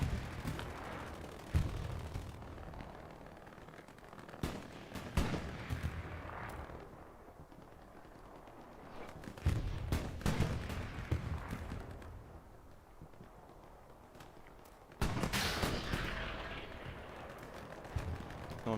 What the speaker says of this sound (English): artillery is coming down on that